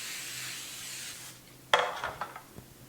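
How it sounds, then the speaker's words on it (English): A faint rubbing noise gives way to a quick hiss of cooking spray on a baking pan, followed by light scraping and clinks of the pan. "I'll spray my baking pan."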